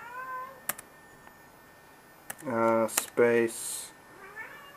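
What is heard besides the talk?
hungry pet cat meowing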